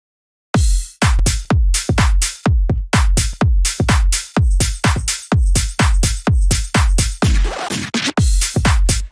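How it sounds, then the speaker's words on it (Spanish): Electronic music drop in which synth drones and a punchy kick drum play together, loud and alone, the kicks striking in a steady driving rhythm with sustained tonal drones ringing between hits and a brief noisy swell near the end. "Y los drones con el kick juntos suena algo así."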